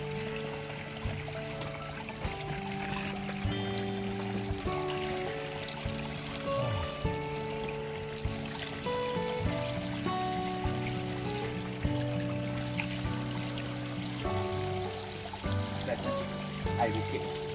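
A hill stream runs beside a hiking trail at Bukit Kiara, water trickling and pouring steadily at moderate volume, with faint background sounds and light tones layered over the constant flow.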